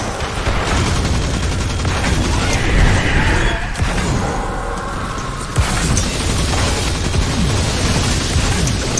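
BrayTech Winter Wolf submachine gun rattles in Destiny 2, sustained rapid automatic fire with booming impacts and explosions layered over it, loud and near, with a short lull midway before firing resumes.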